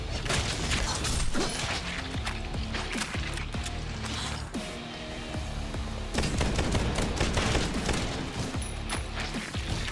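Dense gunfire from the video game Bright Memory, with rapid shots and booming impacts layered over a busy game soundtrack, loud and continuous for about ten seconds.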